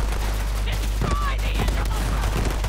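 A Jacobs shotgun fires in the video game Borderlands 3, a short burst of loud gunfire that rattles out amid chaotic combat noise.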